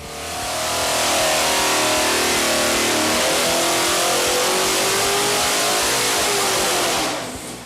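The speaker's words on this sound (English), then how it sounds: "our low deck Hemi sounds great already" A 1970 Dodge Challenger's rebuilt low-deck Hemi V8 revs hard and loud at close range, a sustained roaring climb that holds for several seconds before cutting back, with no talking over it.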